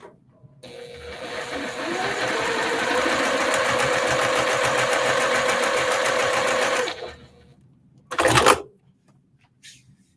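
A sewing machine stitches a quilt block in one steady, loud run of about six seconds, then stops; a brief burst of sewing or handling noise follows moments later.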